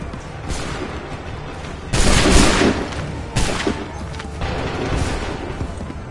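A musket volley in Assassin's Creed III cracks out as a loud massed burst, followed by further scattered shots and rumbling over busy battlefield noise.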